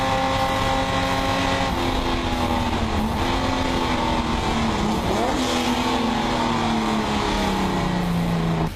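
Chevrolet Opala race cars roaring: loud, sustained engine noise with pitch swinging up and down as the cars rev and pass, several engines layered close by.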